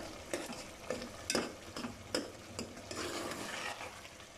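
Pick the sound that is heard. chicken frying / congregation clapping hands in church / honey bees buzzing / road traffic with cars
chicken frying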